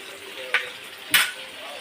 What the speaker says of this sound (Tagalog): Sapit na maluto ang pritong isda.